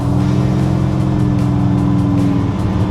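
A 1951 Ford Custom cruises at highway speed, producing a loud, continuous engine drone and rumbling road noise with a steady low hum throughout.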